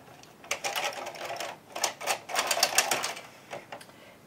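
A domestic knitting machine carriage pushed across the needles while machine-knitting a mitten, giving several quick rattling, clacking sweeps in short bursts, close and fairly loud.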